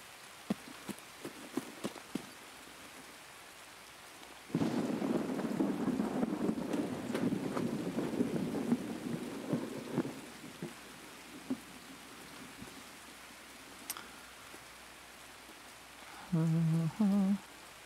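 Rain on a rainy map in the shooter game Escape from Tarkov swells into a steady hiss a few seconds in, then thins out, with scattered faint clicks around it and a short tonal blip near the end; nobody talks.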